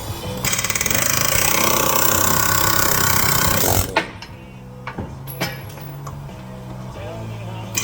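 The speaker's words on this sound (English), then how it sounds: "air hammer knocked it out in less than 20 seconds" An air hammer pounds a ball joint out of a Ford F-350 truck's steering knuckle: a loud, continuous rattling blast for about four seconds, then it stops, leaving scattered metallic clinks and taps in a quieter shop.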